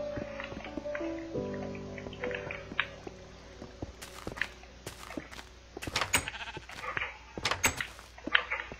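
Sheep bleating in the video game Minecraft: several short bleats toward the end, mixed with clicking game sounds and a faint background tone.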